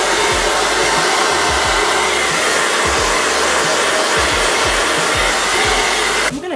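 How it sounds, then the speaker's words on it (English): A blow dryer on warm heat runs steadily and loudly close up as it is moved along the top of type 4 natural hair, a continuous whooshing roar that cuts off right at the end. "I'm gonna just have the blow dryer go along the top of my hair."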